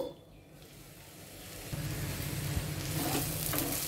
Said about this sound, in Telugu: ఇప్పుడు మూత పెట్టేసుకొని మీడియం ఫ్లేమ్లో ఒక ఆరు నిమిషాలు ఉడకనివ్వాలి